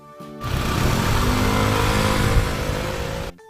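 A motorbike engine revving hard and holding a steady, loud, close roar for about three seconds before cutting off sharply, with no talking.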